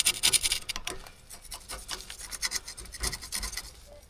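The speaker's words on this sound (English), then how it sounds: "Give it a good scrape." A makeshift tool scrapes rust from the bearing faces of a seized trailer wheel on a commercial fishing trailer, producing rapid rough rasping strokes up close in an irregular back-and-forth rhythm.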